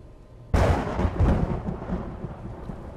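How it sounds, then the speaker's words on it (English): Thunder rolls through a stormy scene in the horror video game MADiSON, a sudden loud crack at half a second followed by a long rumbling decay that fills the rest of the clip with no voices. "Thank you, weather, for reminding me that thunder exists."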